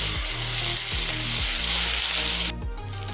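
Green pea paste dropped into hot oil with asafoetida in a wok, giving a loud, steady frying sizzle throughout with a few stirring knocks, and a sharper burst of crackle near the end.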